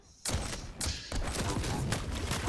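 Rocket launcher fire during a Quake Pro League match, heard as a sudden loud blast followed by dense, continuous explosive game noise, close and loud.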